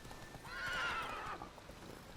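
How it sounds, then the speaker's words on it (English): A horse in The Witcher 3: Wild Hunt gives one drawn-out whinny over steady clip-clopping hooves, loud and near, with no talk. "Whoa there, Roach"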